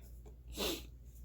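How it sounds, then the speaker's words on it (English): A single short, soft sneeze bursts out once against a quiet background hum, close by but faint. "I had to sneeze again."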